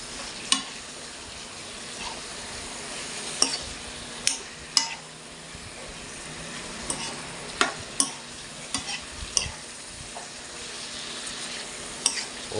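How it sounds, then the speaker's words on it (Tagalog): Pork sizzles softly in a hot pan while a utensil stirs it, scraping and clinking against the metal in scattered bursts over a low frying hiss. "Igisa na natin itong baboy"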